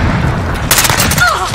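Gunfire in a Call of Duty Modern Warfare Domination match, a loud close burst of sharp shots over a booming rumble within a second or so.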